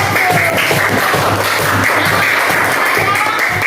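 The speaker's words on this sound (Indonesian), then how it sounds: "tepuk tangan dulu untuk kelompok 1" A classroom of students claps for a presenting group in an Indonesian lesson, steady massed clapping close by and lively, with a voice talking over part of it.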